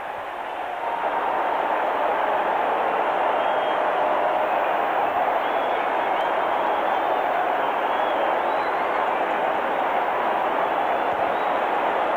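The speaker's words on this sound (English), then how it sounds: "And listen to this crowd." A packed baseball stadium crowd roars steadily at a 1979 ALCS Game 1 after a head-first slide ties the game, a loud continuous wash of cheering from many voices with no commentary over it.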